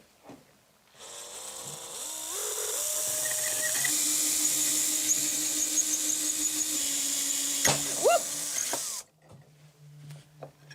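A power drill bores into a ceramic plate under water cooling, a steady whining drone that runs for about eight seconds with shifting pitch and a squeal near the end before cutting out to quiet handling noises.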